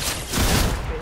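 A brief, dense burst of rapid gunfire in the Fortnite video game, loud and close, lasting about a second.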